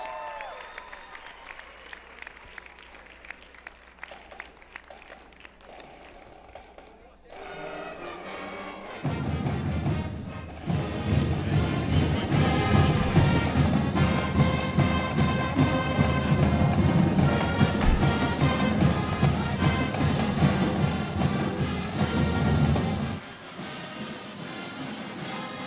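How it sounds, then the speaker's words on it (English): A high school gym crowd applauds the South Kitsap Lady Wolves senior basketball players, class of 2014. The applause swells suddenly to a loud, sustained roar of clapping, mixed with music, before cutting back to quieter room noise. "How about a nice round of applause for the South Kitsap Lady Wolves, class of 2014"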